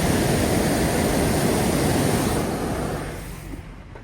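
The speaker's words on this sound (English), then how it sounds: "And then there's another waterfall over there as well." Flood water thunders over a waterfall behind a wall, a loud, dense, unbroken roar that holds steady for a few seconds before gradually easing and fading toward the end.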